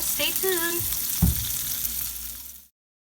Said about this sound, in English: So these have been frying for about 3 minutes.